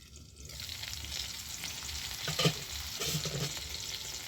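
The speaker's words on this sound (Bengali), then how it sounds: "ওপাশে দেখছি আমার আলুটা ভাজা হয়ে গেছে কিনা" Potatoes fry in hot oil in a pan for a vegetarian potato and pointed gourd curry, giving a steady close sizzling hiss that swells slightly midway, with no talking.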